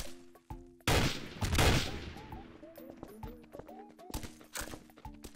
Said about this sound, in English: Shooting the barrel.